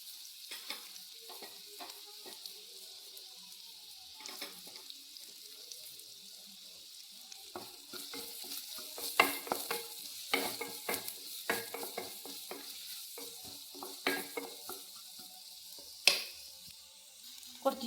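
Onion and green chili fry in a pan for a Kerala-style paneer roast, a soft continuous sizzle broken by frequent close scraping stirs and clinks of the spoon, growing busier toward the middle.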